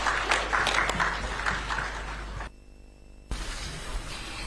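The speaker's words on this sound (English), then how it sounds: "Shall we give him a round of applause, please?" A crowd at a presidential press event claps in a steady wash of applause, which cuts out abruptly into near silence for a moment before resuming.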